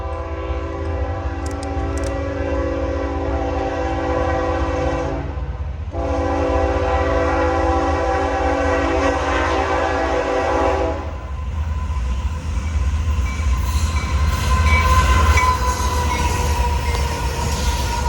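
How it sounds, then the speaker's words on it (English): A Norfolk Southern freight train led by three Union Pacific GE locomotives sounds two long horn blasts separated by a short gap, then rolls on with a steady rumble and faint wheel squeal. "Here's Norfolk Southern 22G with a trio of Union Pacific GEs."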